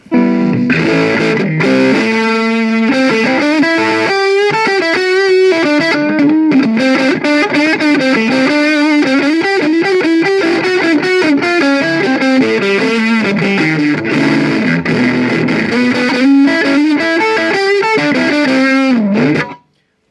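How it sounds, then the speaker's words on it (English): A heavily distorted electric guitar through a Vox Mini5 portable amp plays a gritty, sustained melodic line, loud and close, without any talking, then stops abruptly. "if I turn up the gain more, you can definitely hear this thing break up"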